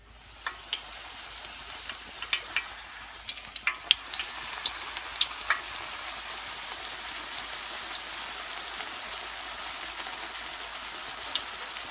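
Rosemary puri dough frying in hot oil, a steady loud crackling sizzle with scattered sharp pops throughout, no voices.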